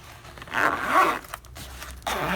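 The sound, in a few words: zipper of a case closing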